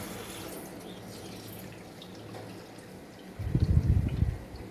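Water bursts from a tap after a water filter is cleaned and reopened, starting quietly and then gushing loud and close for about a second before easing.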